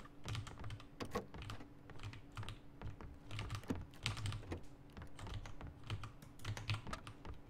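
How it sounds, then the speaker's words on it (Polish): Loud, fast typing on a computer keyboard during a PUBG game session, dense clattering keystrokes running continuously and close to the mic throughout, with no talk over it. "O, ty napierdala ci tą klawiaturę"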